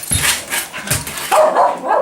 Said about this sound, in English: Here's a couple of pups playing. Loose in the playroom.